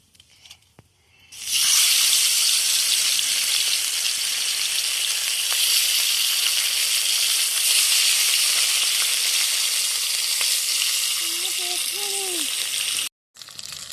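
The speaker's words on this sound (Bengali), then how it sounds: "এবার এর মধ্যে মাছগুলো এক এক করে দিয়ে দিচ্ছি।" Bata fish are dropped into hot oil in a wok and burst into a loud, steady sizzle that holds for about eleven seconds before breaking off, with a brief faint tonal chirp near the end.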